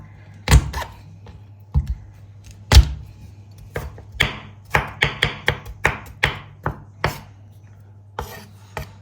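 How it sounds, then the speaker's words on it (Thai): Sharp, irregular thuds of a knife crushing garlic on a cutting board, a dozen or so whacks, some isolated and some in quick bursts, close and loud with no talking. "เราก็จะใช้วิธีการบุบกระเทียมนะคะ ไม่ได้โขลกนะคะ"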